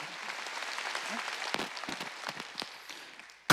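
A church congregation at a Wednesday worship service applauds, a soft, diffuse wash of many hands heard from a distance that thins out and fades toward the end.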